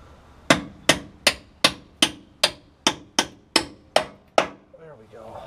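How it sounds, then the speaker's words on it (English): A hammer strikes a 1972 Oldsmobile Cutlass front end eleven times in a steady, even rhythm, each blow a sharp, loud metallic crack that rings briefly. A faint rustle follows at the end. "Grab my hammer here."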